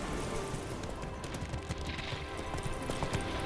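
Hooves of the horse Roach in The Witcher 3, a steady clip-clop of trotting steps close by, running continuously under faint ambient game sound.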